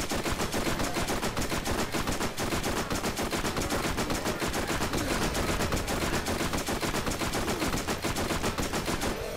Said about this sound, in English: This gun's so loud.